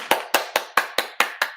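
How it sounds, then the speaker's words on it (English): Hands clap in a steady rhythm, eight crisp claps evenly spaced, close and loud with nothing else heard. "Everybody clap your"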